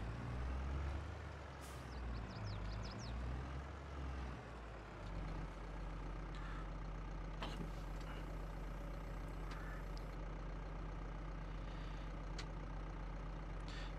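Steady low engine drone of a Valtra G135 tractor in Farming Simulator 22, running continuously and fairly loud, with a pitch sweep early on and a few brief clanks and hisses over the rumble.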